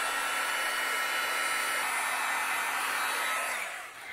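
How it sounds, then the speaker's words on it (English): Heat gun melting white embossing powder on paper gift tags for a birthday card, a steady loud blowing roar that runs continuously for about four seconds before easing off slightly at the end. "I'm going to use my heat gun and we'll melt all of these tags that have our embossing powder"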